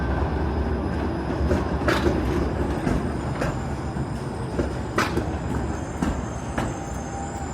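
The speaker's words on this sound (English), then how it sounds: "And a southbound Spadina streetcar." A southbound Spadina streetcar passes along a Toronto street, making a loud, steady rolling rumble with scattered metallic clicks and rattles throughout. No one speaks.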